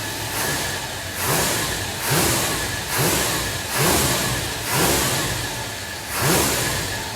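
A classic car engine with its choke loading up runs in a rough, surging rhythm, swelling and easing about once a second, loud and close with no talking.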